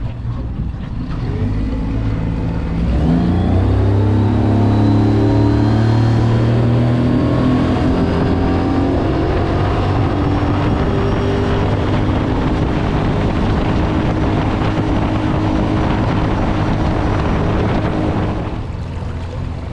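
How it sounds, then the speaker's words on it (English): A 40 hp outboard on a Stabicraft 1450 dinghy powers through a hole shot, its loud engine note rising steeply in pitch as it accelerates, then holding a high, steady whine over rushing water and wind. "I've done a couple of hole shots to see how the motor performs."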